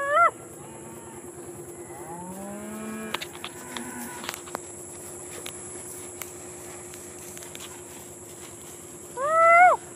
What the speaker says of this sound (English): Wait for these cows and see what's going on.